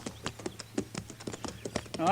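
Horse hooves clip-clop in a steady, even rhythm, moderately close, with a brief rise of other noise at the end.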